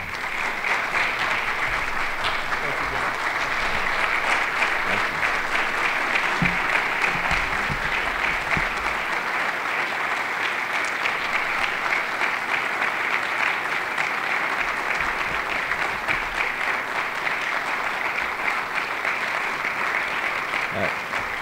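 A large audience at an annual meeting claps for Governor Robert Bentley of Alabama, producing a dense, sustained roar of applause that holds steady for the whole stretch.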